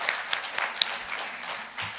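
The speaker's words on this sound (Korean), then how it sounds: "주님 앞에 감사의 박수 올려드리시기를 바랍니다" A church congregation applauds during a Sunday worship service, a short wash of clapping from many hands held at an even level for about two seconds.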